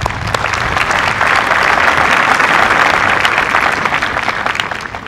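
A large crowd at a high school graduation ceremony applauds steadily, a dense wash of clapping that swells slightly in the middle and stays loud throughout, with no voices on top.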